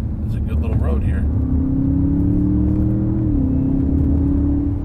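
An Audi S8 with a 590 lb-ft torque engine drives on a winding road, giving a steady loud low cabin drone with a held engine tone that rises slightly and then dips. A voice talks over the start.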